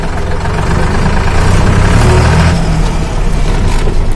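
A 2008 Farmtrac 45 tractor's diesel engine running steadily and loud at close range, a continuous low idling rumble with no talk over it.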